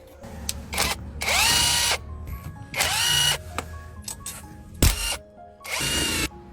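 A power tool backs screws out of the differential housing of an electric four-wheeler, with four loud whirring bursts and a sharp clack of metal in one pause.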